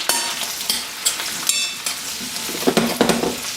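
Onions and mushrooms for beef bourguignon sizzle steadily in a hot pan, a dense crackling hiss broken by a few louder pops and stirring scrapes, with no voices.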